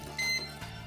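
A bread machine beeps as it is switched on to knead dough, a short clear electronic tone near the start, followed by a faint click.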